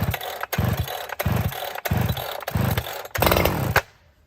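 A chainsaw being started with the leg lock method, chain brake and choke on, while felling dead oaks near a house: five or six loud, close pull-start bursts of engine sputter, each cut short, then silence.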